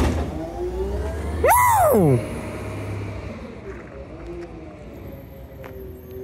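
A recycling truck engine hums steadily in the background while a child's excited whoop rises sharply over it early on, then the low mechanical drone continues alone.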